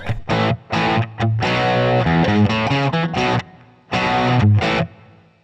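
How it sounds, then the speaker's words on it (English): Distorted electric guitar chords and riffs through a Line 6 Helix amp model with reverb and compressor, loud and close, with short stabs, sustained chords and brief pauses, a roomy reverb tail on each phrase. "all you're hearing right now is this amp going through the verb and my normal little compressor patch"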